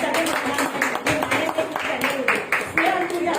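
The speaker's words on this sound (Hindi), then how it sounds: "जोरदार तालियां सबने बजानी है" Audience applause at a birthday celebration, a short burst of quick bright claps from a group, heard alongside a voice talking.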